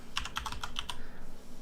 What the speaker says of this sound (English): you type localhost